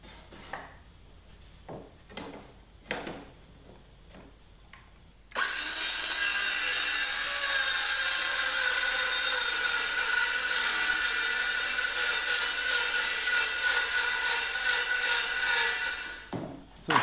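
A circular saw rips through a sheet of plywood on top of MDF, a loud steady whining roar for about eleven seconds, preceded by a few sharp knocks and handling clicks and ending with a brief clatter.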